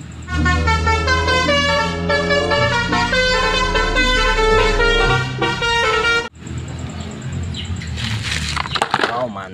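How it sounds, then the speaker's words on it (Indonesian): A toy telolet bus plays a loud electronic horn tune of rapid, rising and falling musical toots, which stops suddenly and is followed by talking and clattering. "Wow, ini bus oleng telolet."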